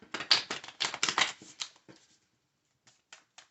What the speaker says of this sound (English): As you can see, I'm shuffling in front of you.